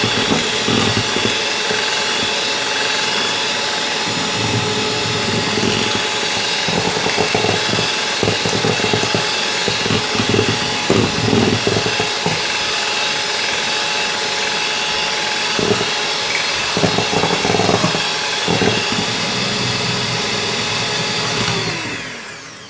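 Electric hand mixer beating egg whites into meringue for a yoghurt chiffon cake, a steady loud motor whir held without pause for about twenty seconds before switching off.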